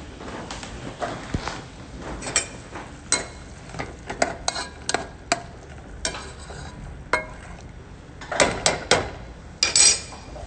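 Sauce being stirred in a pot during preparation of an Italian chicken meal kit, with scattered clinks and scrapes of a utensil against the pot over a soft steady simmer, close and moderately quiet.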